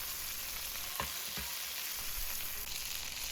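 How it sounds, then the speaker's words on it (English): Beef tenderloin sizzling in a pan while being basted with butter, a dense continuous frying hiss close up, with a couple of brief louder spoon or spatter knocks early on. "Keep basting until you hit 110 and it is coming off the heat."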